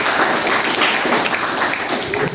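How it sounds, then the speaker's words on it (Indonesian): A class of students claps together during a teaching-practice lesson, producing a steady, dense wash of clapping that runs evenly through the whole stretch without pause. "Tepuk tangan semua"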